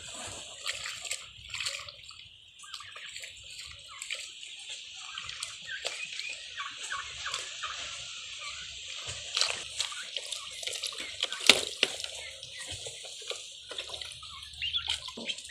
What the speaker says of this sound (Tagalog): paliliguan po natin para matanggal po yung kanyang mga kuto